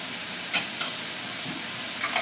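Chopped garlic browning in a pan, a steady soft sizzle with a few light stirring scrapes, close and alone without talk.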